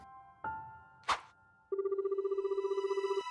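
A telephone in an Indonesian animated horror film rings in one steady, trilling burst lasting over a second, clear and fairly close, after a couple of short knocks and clicks.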